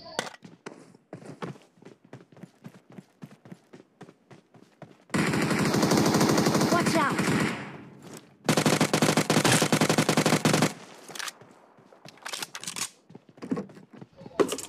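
UMP submachine gun fire in BGMI at Rozhok, with two long loud bursts of automatic shots, each lasting a few seconds, between quieter stretches of footsteps and game sounds.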